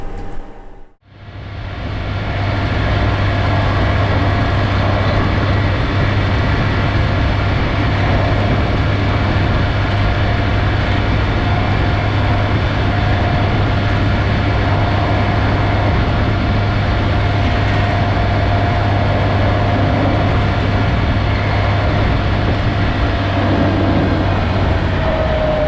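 A small tractor's engine runs steadily while driving, a constant low droning hum with a tonal whine, loud and unbroken for the whole stretch after a brief start.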